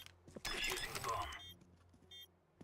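A bomb being defused in Counter-Strike 2: faint metallic clicking and rattling mechanism noises in a short cluster, followed by a few sparse quieter ticks and electronic tones.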